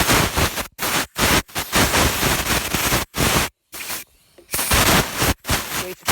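Compressed air from a thin compressor nozzle on an air chuck blasts in loud, close hissing bursts of uneven length, with short gaps and one longer pause between them.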